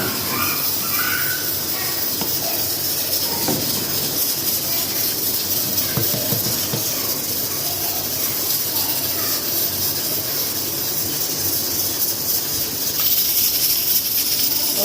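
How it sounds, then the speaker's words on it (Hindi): Pressure cooker hissing steadily on a kitchen stove while rice and masoor dal cook, a continuous airy hiss held close and level throughout, with brief soft clatter near the start and a slight swell toward the end. "और साथ ही हमारा प्रेशर भी चल रहा है इधर।"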